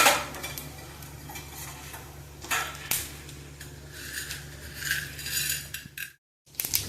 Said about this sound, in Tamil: 1 ஸ்பூன் கடுகு போடுறேன். கடுகு நல்லா வெடிக்கட்டும்.